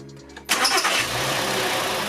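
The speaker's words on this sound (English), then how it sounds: "let's go ahead and have Jackson start it up" A gasoline direct injection car engine, run with cleaning spray in the intake, cranks and catches after a quiet moment, then settles into a loud, steady idle.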